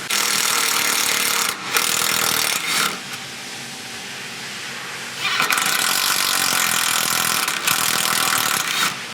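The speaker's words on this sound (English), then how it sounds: "take your stock self-tapping screw and thread this hole right here" A stock self-tapping screw is driven into an untapped mounting hole on a motorcycle exhaust, making loud, steady grinding and ratcheting bursts with a short quieter pause between them.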